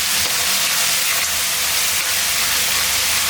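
Small onion paste poured into hot oil for a tangy brinjal kuzhambu, giving a loud, steady hiss and sizzle that stays broad and even with no voices.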